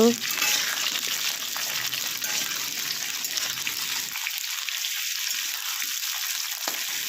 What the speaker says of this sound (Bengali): আলুটাকে ভেজে নিই তারপর আবার ফিরে আসবো দেখো পেঁয়াজের সাথে আলু পেঁয়াজ একসাথে দেওয়া হয়ে গেল